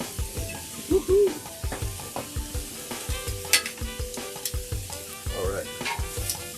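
Onions sizzle and fry in a pan while being stirred, a steady close hiss broken by repeated scraping strokes of a utensil, with a few brief clinks and no talking.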